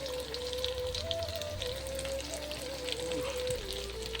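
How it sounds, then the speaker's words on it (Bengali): Spice paste, onions, chili powder, salt and turmeric fry in a pan for chicken curry, giving a steady, fairly quiet sizzle that runs continuously. "এবার মশলাটা কষিয়ে নিতে হবে।"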